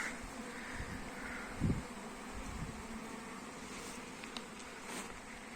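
Faint, steady buzzing of many young honeybees on orientation flights around a hive entrance fitted with a pollen trap, with soft rustling and a brief low thump partway through.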